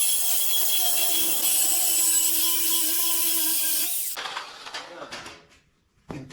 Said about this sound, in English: Let's see if I got a good enough sawzall blade.